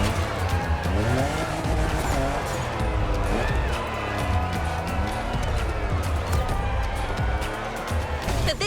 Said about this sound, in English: you're going to be curving around a monumental lighthouse with a slick new Toyota Supra